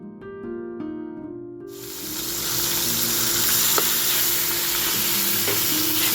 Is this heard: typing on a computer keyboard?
no